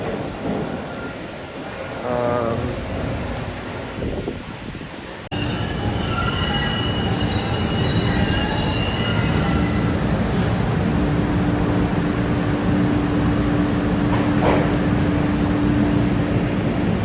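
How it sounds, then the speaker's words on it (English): Several trains move through a railway station at once, with rolling wheel rumble, sustained metallic squeals and high tonal screeches over steady loud mechanical noise, and the sound of a train passing close by. "that's 3 trains in the station at once."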